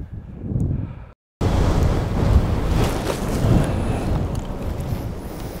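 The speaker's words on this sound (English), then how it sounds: "I'm really getting hammered by the wind off this sand dune here" Strong wind blowing over a sand dune on a Tasmanian beach roars into the microphone, a steady loud buffeting rush that follows a brief cut-out near the start.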